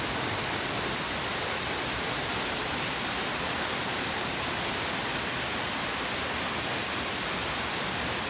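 Steady, dense rushing of a forest waterfall, one of a series of cascading falls with clear water, filling the whole clip as a continuous broadband roar, with no voices.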